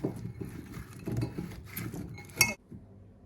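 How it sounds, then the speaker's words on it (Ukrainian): Seasoned chicken wings and potatoes are mixed in a bowl, with repeated close scraping, clinking and soft tumbling, ending in a sharper clink before quiet. "все ретельно розмішую"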